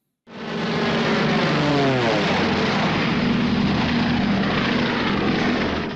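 Propeller warplanes in a formation roar loudly overhead near a boat, a sustained drone with a pitch shift as the planes pass close by.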